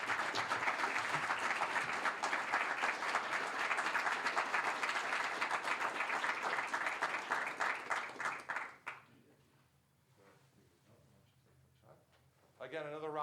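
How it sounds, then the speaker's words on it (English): Audience applause at a regional student idea pitch competition award, a steady wash of many hands clapping for about nine seconds, then fading to near quiet with a brief rise at the end. "Again, another round of applause."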